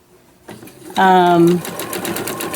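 A sewing machine runs a short burst of normal straight stitching on a fabric sewing roll, a quick whirring rattle lasting about half a second, with a person talking over and after it.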